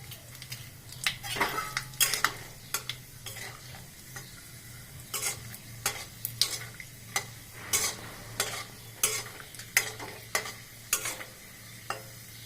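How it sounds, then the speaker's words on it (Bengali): Peanuts being lightly fried in a hot wok, an irregular series of sharp metallic scrapes and clinks from a spatula over a continuous low sizzle and a steady hum, with no talking. "প্রথম আমি হলো গিয়ে বাদামটাকে একটু ভেজে নেব"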